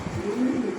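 A Lahore pigeon pair gives a soft, brief coo close by, one low throaty call in a quiet indoor setting.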